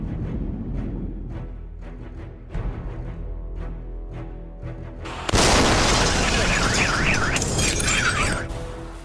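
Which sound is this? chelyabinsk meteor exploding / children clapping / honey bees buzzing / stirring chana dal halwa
chelyabinsk meteor exploding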